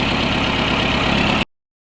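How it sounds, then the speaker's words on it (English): A truck engine idles steadily, a dense mid-low rumble with a faint rhythmic pulse at close range, continuous and alone until it cuts off sharply. "the truck is running, that's all that matters"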